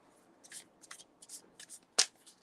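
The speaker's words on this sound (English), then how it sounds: "I'm just going to pull random cards because I just love the feel of the shuffle." A Shadowscapes tarot deck is shuffled by hand, with quiet close riffles and flicks of cards in short bursts and one sharper snap near the end.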